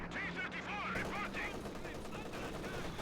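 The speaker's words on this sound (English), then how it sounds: "Oh, heavy mortar landing on his machine gun." Heavy mortar rounds strike a machine gun position in the World War II strategy game Company of Heroes 2, with continuous dense battle noise of gunfire and explosions throughout.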